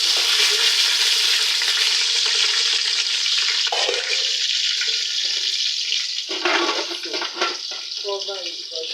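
Onions hit hot oil in a pan and fry with a loud, dense sizzle that hisses continuously, crackling and fading slightly toward the end as a few stirring knocks come through.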